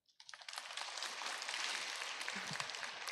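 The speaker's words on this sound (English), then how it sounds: "I invite you to give a round of applause to our speakers." An audience at an academic conference gives its speakers a round of applause, a dense, sustained wash of clapping that starts with a few scattered claps and quickly builds to full, even volume.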